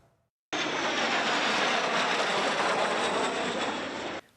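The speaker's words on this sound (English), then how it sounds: "historic military aircraft and aerobatic performers take flight in the 3rd annual Thunder Over East Texas Air Show" A historic military aircraft flies over at the Thunder Over East Texas Air Show at Athens Municipal Airport, its engine a loud, sustained broad roar that starts and cuts off abruptly, with no talk.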